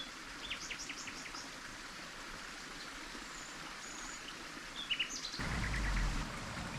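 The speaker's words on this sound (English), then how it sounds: "Eagle-eyed Maria spotted the nightingale, but I didn't see it" Songbird calls and chirps over the steady rush of a stream on a hillside walk near Yegen in La Alpujarra, southern Spain; scattered bright phrases, fairly distant, with a louder rumbling burst near the end.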